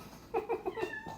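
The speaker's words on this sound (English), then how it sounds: "She won't stop meowing." A pet cat named Miss Peaches meows indoors, four short close meows in quick succession, clear and moderately loud with no talking over them.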